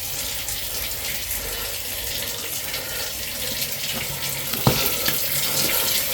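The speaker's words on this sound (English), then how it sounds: "The water running" Water runs steadily down a sewer drain being cleaned, a constant loud hissing rush with a brief thump near the end and no talk.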